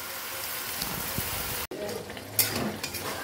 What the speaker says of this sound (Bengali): পুঁই শাকটাও দিয়ে দিলাম একবারে, ভালো করে এবার নেড়ে নিই।